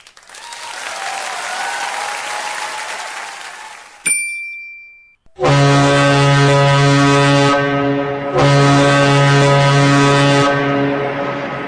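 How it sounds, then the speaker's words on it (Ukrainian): A deep, steady ship horn blasts twice, long tones with a short gap between, following a burst of noisy crowd sound and a brief ring. "Так звучить корабель."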